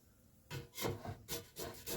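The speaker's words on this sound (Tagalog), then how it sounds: "Kutkurinan lang po natin ang ilalim para hindi masira yung balat." A flat spatula scrapes beneath frozen salmon in an air fryer basket, several short rasping strokes in an uneven rhythm, close and fairly quiet, with no talking.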